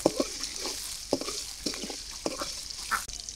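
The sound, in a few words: chopped onion frying in oil in a wok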